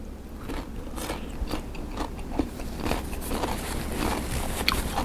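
Close-up biting and chewing of Thai rice mixed with shrimp chili paste, a continuous moist crunching and munching with small crisp snaps, steady throughout.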